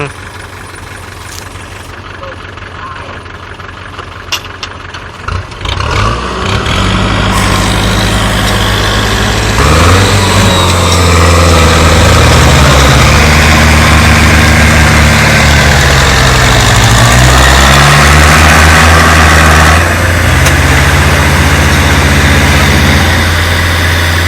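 A heavy truck engine starts up and then runs loud and close, its low rumble rising and falling as it revs.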